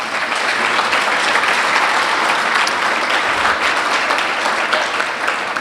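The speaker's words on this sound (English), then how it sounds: "Give them a round of applause." Guests at a Bennington gala dinner applaud table sponsors with a steady, full burst of clapping from a sizable room, dense and continuous from start to finish with no talking over it.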